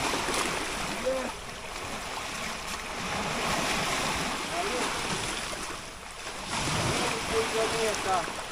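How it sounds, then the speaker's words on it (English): Waves wash over a beach in Portland, Jamaica, a steady broad surf roar with wind that swells and eases, while voices murmur faintly underneath. "So we're on the beach, we made it."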